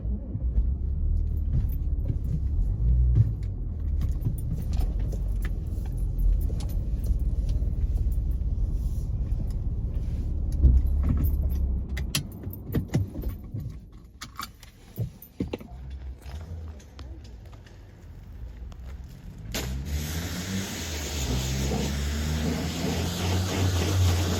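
An Audi SQ5 drives up with a steady low engine rumble that fades after a while, leaving quieter shuffling and mechanical noises near the end.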